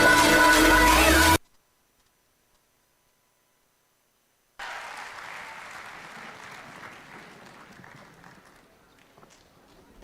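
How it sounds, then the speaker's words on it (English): Audience applause fills an auditorium after a music performance at a sports conclave, a steady wash of clapping that starts abruptly after a silent gap and slowly fades toward the end. "So, a big round of applause."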